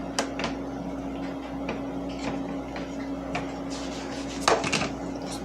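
Eggs and butter being mixed into homemade pancake batter in a bowl: close, repeated clinks and scrapes of a utensil against the bowl over a steady background hum, with a louder clatter near the end.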